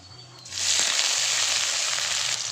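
After a quiet start with a low hum, chopped onion and nigella seeds frying in oil burst into a loud, close, steady sizzle that keeps going to the end.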